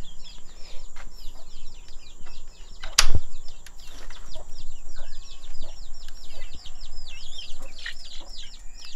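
Leghorn chickens kept on a Malaysian farm cluck and call in a steady chatter, with a brief loud burst of wing flapping early on and a constant high background hum.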